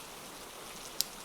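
Steady rain hiss fills the background as a constant soft wash, with one brief brighter drop-like tick near the end, no talking.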